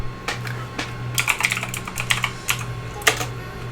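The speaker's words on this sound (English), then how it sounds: "open up a command prompt as administrator, and then just type in diskperf" Keys clatter on a computer keyboard as a command is typed at a Windows Server 2019 command prompt, an irregular run of close, crisp taps with brief pauses.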